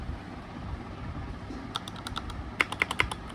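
Soft, creamy key clacks from a Redragon K617 magnetic keyboard come in an uneven burst of quick strokes, close and fairly quiet, over a faint background hiss.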